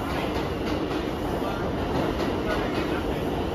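A New York subway 6 local train rumbles along with steady loud wheel and car noise and a faint rhythmic clatter, filling the whole stretch without letup.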